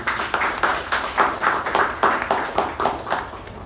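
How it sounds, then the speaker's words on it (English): Rhythmic group clapping fills a Toastmasters meeting room, about a dozen evenly spaced loud beats in unison, each clap swelling and decaying in a steady pulse. "Please give a big round of applause for Toastmasters."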